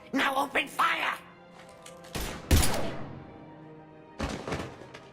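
Gunfire erupts in the video game Mass Effect 3: a loud burst of shots and heavy impacts around the middle, then another volley near the end, with a voice talking beforehand.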